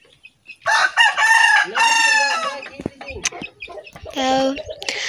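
In a village, a rooster crows loudly and close by, a long harmonic call, followed by a second shorter crow and some clucking; a voice murmurs briefly in between.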